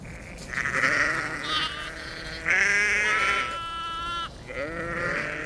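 Primitive prehistoric-type sheep bleat repeatedly out in the open, several overlapping calls rising and falling at close to moderate distance, with a few longer wavering bleats in the middle.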